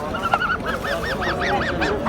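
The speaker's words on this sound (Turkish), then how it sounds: "Buradan direkt başlayalım kazlarla." Geese at an outdoor poultry market in Kırıkkale, Turkey, honking in a rapid run of about a dozen nasal calls, loud and close, with market bustle underneath.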